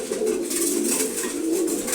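Close pigeons coo in low, rolling warbles while feeding in the morning, the murmur unbroken and fairly loud, with faint pecking ticks over it.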